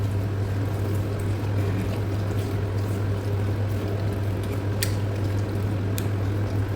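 Beef for kacchi biryani is worked by hand with yogurt, fried onions and the oil left from frying potatoes and onions, giving soft, wet squelching close by over a steady low hum.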